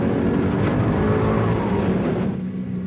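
A 2006 Mercedes-Benz SLK 55 AMG weaves through a cone slalom at about 50 km/h, its engine a loud, sustained roar with slight rises and falls and a faint tire hiss.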